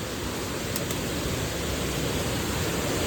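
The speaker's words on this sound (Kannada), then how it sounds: "ಇದು ನಾಗಲ್ ಫಾಲ್ಸ್ ಮೇಲೆ" Nagal Falls in Uttara Kannada, a dense, unbroken roar of rushing water that holds steady and loud throughout, with no voices over it.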